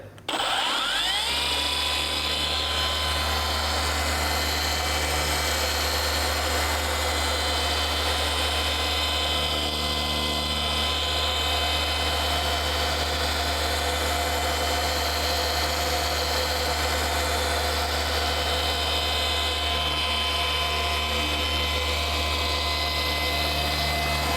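A polishing machine buffs weathered plastic car trim with a steady, loud, continuous motor whine and hum that holds for the whole stretch without pause.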